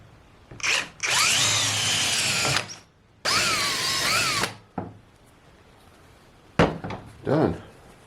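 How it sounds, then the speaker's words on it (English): Power drill boring holes in a flockboard for an 8-inch Newtonian telescope, two long close whirring runs of about two seconds each, followed by shorter bursts and small clatters. "And I can drill."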